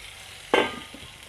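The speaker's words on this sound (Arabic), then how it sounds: "يستوى الزيت، يتحمر بس شويه كمان عشان احط" Crab sizzles in hot oil for a seafood meal. There is one sharp burst of frying midway that quickly fades into a low background hiss.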